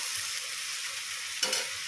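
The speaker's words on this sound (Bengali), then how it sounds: "এটা এবার ভাজা ভাজা করবো" Food frying in a pan in a home kitchen, a brief steady hiss with one louder burst of sizzle near the end, close and alone.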